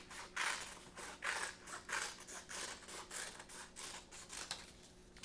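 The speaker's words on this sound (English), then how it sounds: "now I'm going to cut out the center of it" Scissors snipping through a construction paper circle to remove its center for a suncatcher craft frame, a quiet series of regular crisp cutting strokes about twice a second with no talking.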